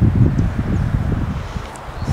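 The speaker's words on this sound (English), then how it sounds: "We are into some wind here." Wind buffeting a microphone on the back nine of a golf course, a continuous low rumbling rush with gusty swells, close and fairly loud, with no talk.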